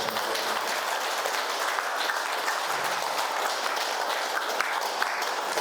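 A crowd at a meditation training event applauds continuously, a dense, even wash of clapping with a few sharper claps standing out, carrying on steadily without speech.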